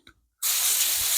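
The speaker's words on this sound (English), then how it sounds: "I'll get the hose on that, give that a really good soak" After a brief clunk and a moment of silence, a garden hose bursts into a strong, steady hiss of spraying water soaking a plant pot, loud and close.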